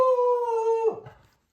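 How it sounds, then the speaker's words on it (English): Pet dog Elvis howls at a jogger passing near the backyard: one close, sustained, steady howl lasting about a second before it breaks and trails off into quiet. "That's my dog."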